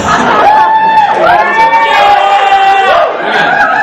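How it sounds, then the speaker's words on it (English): A large crowd at an all-campus gathering cheers and whoops loudly and steadily, many overlapping voices rising and holding with shouted tones, alone without a single speaker over it. "Give it like a cheer."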